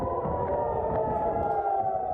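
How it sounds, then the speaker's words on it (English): Warning sirens wail during Hamas missile attacks on Israeli cities, a steady droning tone heard continuously and moderately loud, with no talk. "The sound of warning sirens can be heard there and in the holy city of Jerusalem"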